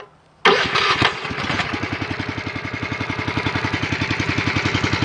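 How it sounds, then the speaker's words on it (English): A fire engine's portable pump motor cranks briefly, then catches and settles into a steady, rapid idle thump that runs on loud and close with no talking. "Next, you want to start the pump."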